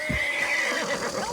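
A horse in Red Dead Redemption 2 gives a loud, close whinny lasting over a second, its pitch wavering and then rising at the end.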